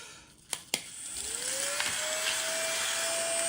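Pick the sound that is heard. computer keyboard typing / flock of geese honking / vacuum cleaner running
vacuum cleaner running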